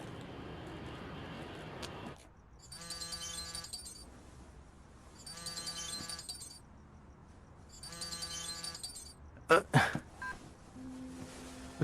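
A telephone is dialed in the middle of the night, with three evenly spaced bursts of electronic keypad tones separated by quiet pauses, followed by a brief sharp clink near the end.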